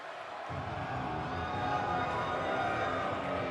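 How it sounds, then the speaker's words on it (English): A large crowd in the WWE 2K video game roars and cheers steadily, a dense wall of voices swelling in after a brief quieter moment and holding loud throughout. "You hear this crowd, they are on their feet for this man."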